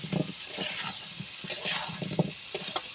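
Hog plum (amra) chutney stirred in a pan, soft wet scraping and light bubbling, faint and close, with no talk.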